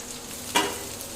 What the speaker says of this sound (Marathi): लसणीचा तडका एकदम भारी बसला आता त्यात कांदा घालतायत